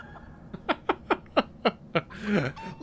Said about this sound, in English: the best part about having a chicken familiar is that it's just constantly making noise.